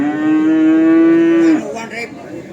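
A single long, loud cow moo at a cattle market holds a steady low tone for about a second and a half, then fades into faint background noise.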